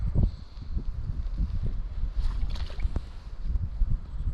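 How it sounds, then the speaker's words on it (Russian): Wind blows steadily across the microphone, producing a low, gusty rumble with faint rustling and no voices. "Сегодня поднимается вот ветер, вернее он уже дует."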